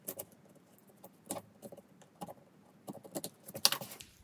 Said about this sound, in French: On va enlever les petites bavures avec le cutter.